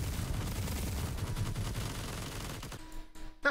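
A minigun fires in the RELL Seas game as a rapid, continuous rattling burst of shots lasting nearly three seconds, then cuts off into a few faint clicks and a short final hit.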